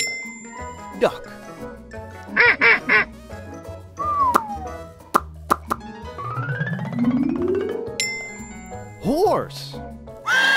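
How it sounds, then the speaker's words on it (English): A few short nasal duck quacks among assorted animated sound effects, with plops, dings and sliding tones, fairly close and loud. "Duck."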